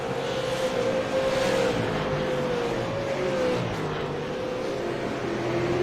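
Race cars run laps at Hickory Motor Speedway during a small-field event, a continuous loud engine roar with a droning pitch that shifts slowly as the cars circle the track.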